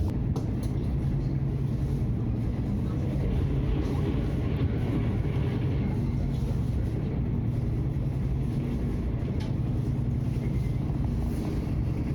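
Steady low rumble of a Dutch sprinter passenger train riding along the tracks near Amsterdam, continuous and fairly loud throughout, with no voices.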